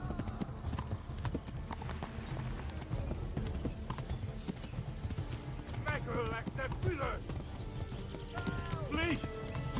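A horse gallops in the video game Kingdom Come: Deliverance, steady rapid hoofbeats throughout with a couple of whinnies later on, under a busy background of game sounds and voices.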